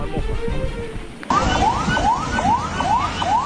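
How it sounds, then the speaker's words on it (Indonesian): An ambulance siren wails in repeated rising sweeps, about five in quick succession, loud and close over rumbling traffic and road noise as the vehicle pushes through floodwater in Kupang, Indonesia. "ambulans menerobos banjir karena orang sakit"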